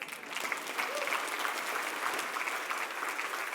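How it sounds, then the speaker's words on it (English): Audience applause at an evening thank-you and farewell gathering, a steady, even patter of many hands clapping, moderately distant and fairly quiet, sustained without a break. "How about a second round of applause for this talented group?"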